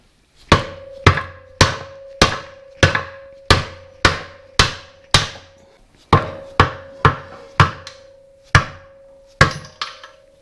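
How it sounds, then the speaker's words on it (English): About seventeen sharp soft-face hammer blows strike a roller bearing on a Morris Mini 850 gearbox shaft at a steady pace that quickens toward the end. Each hit is loud and close, with a short ringing tone. "I'm just hitting it with a soft face hammer."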